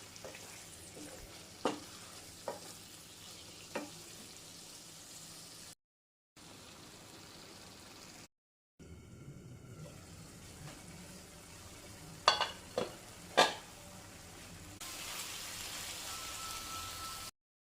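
Mushroom masala releasing its water as it cooks in a pan, giving a soft, steady sizzle and bubbling, with a few sharp clicks of stirring breaking through and short silent gaps between sections.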